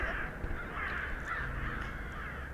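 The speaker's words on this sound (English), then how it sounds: "Were those birds?" Birds cawing like crows within the body-horror video game Fused, moderately faint and repeated over a dense, steady ambient game background.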